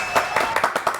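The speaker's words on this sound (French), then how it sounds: "applaudissements pour Violaine Vanoyek" A studio audience on a television talk show claps for a guest, a short burst of several loud, close hand claps in an uneven rhythm.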